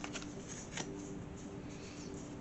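Tarot cards being shuffled by hand, a short burst of soft riffling flicks and papery slaps, faint and close.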